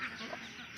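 Faint ducks in a pen quack softly at a distance, a short burst of muffled calls against quiet background noise.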